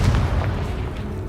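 Confringo blasting spell detonating in Hogwarts Legacy, a heavy booming explosion with a deep rumble that lingers and slowly fades.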